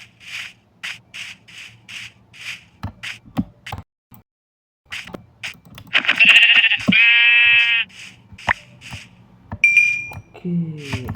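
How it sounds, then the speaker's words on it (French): Sheep bleating in the Minecraft video game, several short wavering bleats from a nearby sheep mixed with game clinks and a voice talking over parts of it. "Oh, un mouton là-bas."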